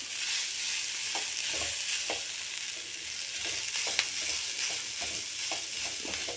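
Gram flour and onions lightly roast in a pan with a soft, continuous frying hiss, while a spoon scrapes and stirs in irregular strokes close at hand.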